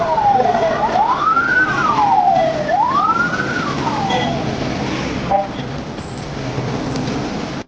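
An ambulance siren wails in rising and falling sweeps, loud and close, over steady traffic rumble, then fades into a continuous road noise.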